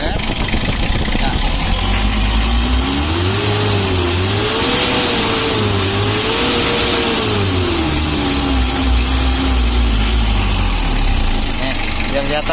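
A car engine with a retuned timing and idle setup idles steadily, then is revved in several rising and falling swells before settling back, loud and close, with someone talking over it.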